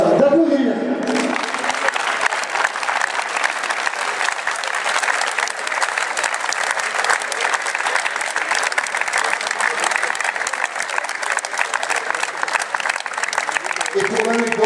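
A crowd at a Toulon rugby club anniversary celebration applauds in honour of club legends, sustained dense clapping filling the whole stretch with a voice briefly audible at the start and end.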